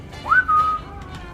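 A person whistles nearby: one short, bright note that slides upward, then a longer steady tone, loud and clear against a quiet background.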